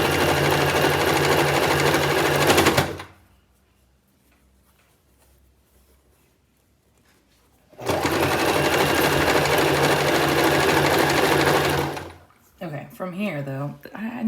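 A sewing machine stitches fabric for a scrunchie in two bursts, a steady close-up mechanical whir that pauses for several seconds in between, with a voice talking briefly at the end.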